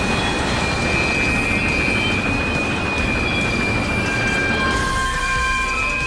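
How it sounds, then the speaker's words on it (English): Train brakes in Garry's Mod screech on the rails, with a continuous squeal of high metallic tones over a dense, steady rumble of rolling wheels. No voices are heard. "The train screeched along the rails as Luke put his weight against Ultz and his train."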